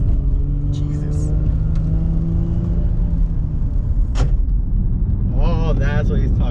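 Six-speed rear-wheel-drive car on the road, a steady deep engine rumble from inside the cabin with a sustained droning tone, joined by a voice at the end.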